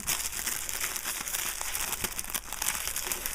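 Plastic packaging for an iPad protector being unwrapped one-handed, giving a steady, close run of crinkling and rustling for a few seconds with no talk.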